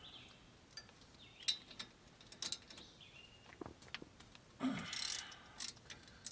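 A ratchet loosens the brake caliper pins on a 2019 Honda Odyssey during a front brake pad and rotor change: scattered close clicks and short ratcheting bursts, with a louder burst near the end and no talking.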